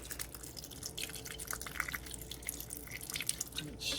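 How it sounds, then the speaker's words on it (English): Rice vinegar poured into a container while mixing homemade hot sauce, a steady close trickle and dripping of liquid alone with no talking. "now we're pouring the rice vinegar in here"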